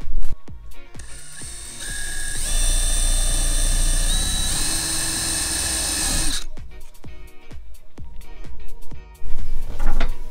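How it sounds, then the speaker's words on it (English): A power drill bores magnet holes into a cedar plank, a loud whining spin that rises in pitch and holds for several seconds before stopping, then clattering and handling knocks follow. "let's go ahead and get started drilling the first couple of holes for the magnets in this cedar plank."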